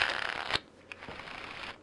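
Digital tiles in the Battlegrounds Gaming Engine are shuffled with a dense, rapid riffling rustle that stops abruptly. A click and a softer, shorter burst of shuffling follow.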